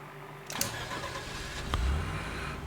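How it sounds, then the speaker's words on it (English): A truck engine in the off-road driving game MudRunner cranks and catches, a couple of sharp starter clicks followed by a low rumbling idle that swells slightly, with no voices. "No, I did not say to start the engine."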